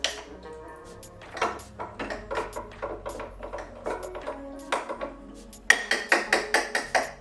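A koji ferment for a Thanksgiving turkey is being mixed, with repeated clacking and scraping knocks, likely a utensil against a container, irregular at first and then a quick steady series of strokes.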